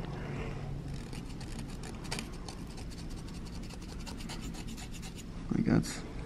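A close, steady rasping scrape as carbon buildup is scratched off an engine piston from an MK7 GTI, with a brief louder scuff near the end.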